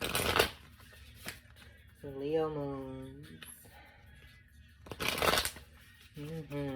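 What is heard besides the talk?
shuffling tarot cards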